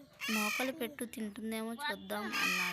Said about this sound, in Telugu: దాని అరుపు వింటుంటే మీకు కూడా అర్థమై ఉంటుంది కాకిపిల్ల అని